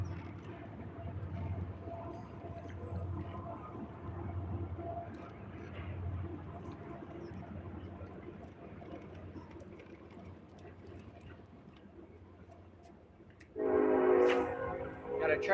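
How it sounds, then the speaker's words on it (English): A train rumbles past a lake during bass fishing, a low steady roar under light wind, then a loud horn blast sounds near the end. "Got a train going by."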